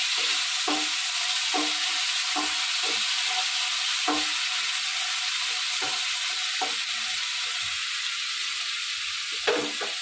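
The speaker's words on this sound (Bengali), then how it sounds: "তো এবার আমি দিয়ে দিলাম টমেটো পিউরি। তো টমেটোটাকে আমি কিছুক্ষণ কষিয়ে নেব।" Tomato puree fries in oil in a pan with black cumin for a prawn poppy-seed curry, a steady hiss of sizzling broken by regular scraping stirs, close and alone.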